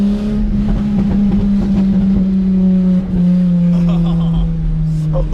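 A Datsun 280ZX project car, just back on the road after a clutch replacement, idles loud and close with a deep steady drone and a slight wavering rumble. No one talks over it.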